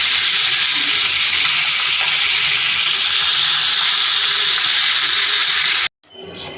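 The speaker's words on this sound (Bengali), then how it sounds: "এই জন্য আমি আই মাছটা হালকা ভেজে নেব, বেশি ভাজবো না" Aair fish frying lightly in hot oil gives off a loud, steady sizzling hiss that fills the whole clip before cutting off abruptly near the end.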